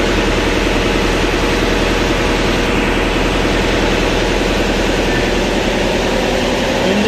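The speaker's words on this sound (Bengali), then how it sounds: "তরঙ্গা একের ইঞ্জিন" Engine room of the Taranga 1 passenger launch boat on the Nandir Bazar route, its engine giving a loud, steady, droning roar with a low rhythmic throb that fills the space, and no speech over it.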